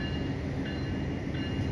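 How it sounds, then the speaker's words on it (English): A San Joaquin passenger train, led by locomotive 2102 with cab car 8308, rolls into Bakersfield station as a steady, continuous low rumble of wheels and engine, moderately loud and close, with no talking. "Now approaching at Bakersfield Station."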